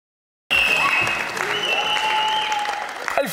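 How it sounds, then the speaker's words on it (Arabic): Audience applause at a televised comedy game show, a sudden loud burst of clapping that starts abruptly and holds steady for about three seconds, with whistles and cheers over it. "كاش اللي ما يحبوش عطوا لي تصفيقة"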